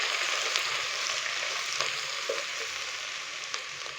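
Ginger garlic paste frying in a pan, a steady dense sizzle with a few faint stirring clicks, close and continuous with no talk.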